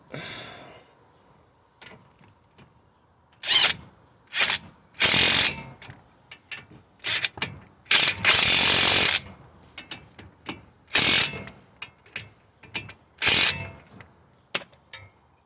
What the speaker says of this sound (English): I'm just going to gun these up.